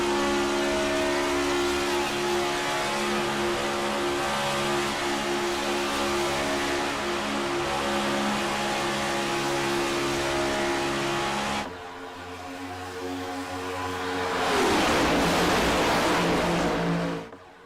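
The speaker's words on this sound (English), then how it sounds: "On board with Brian Wirtz, pushing the ever-living daylights out of the 17 car." Roaring engine of the 17 stock car pushed hard at Daytona in a sim racing game, a sustained, loud droning whine that dips briefly near the end before surging back.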